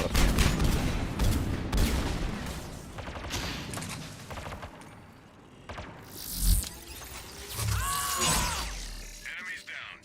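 Gunfire in Mass Effect 3 multiplayer, rapid bursts and sharp shots packed together and fading into scattered impacts and mechanical sounds, with talking mixed in.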